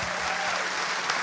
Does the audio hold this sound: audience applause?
yes